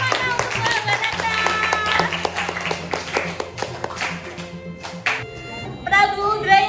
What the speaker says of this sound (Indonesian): Tepuk tangannya mana untuk Mahabharata?